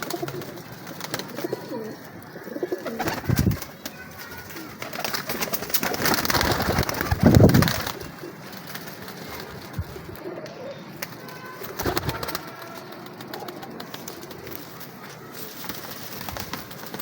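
A group of 22 caught adult pigeons coo repeatedly at close range, with low throaty calls rising and falling amid wing flutters and rustling, and no talking.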